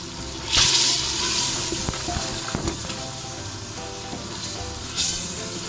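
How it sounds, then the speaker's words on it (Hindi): Beef keema seasoned with salt and garam masala, fried desi style in a pan, gives a steady sizzle with louder hissing bursts near the start and end, with no voices. "और इसको अच्छे तरीके से मज़ीद भूनेंगे 2 से 4 मिनट।"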